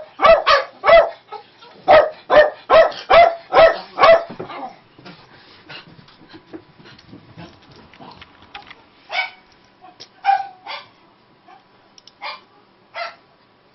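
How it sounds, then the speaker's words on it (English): Dogs bark loudly and close by in a quick run of about eight sharp barks, followed by quieter scattered yips and whimpers, with a few more barks further on. "These are my dogs."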